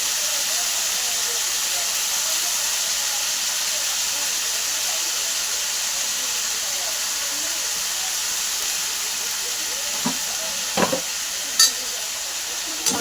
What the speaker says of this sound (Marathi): फ्राय करून घेतो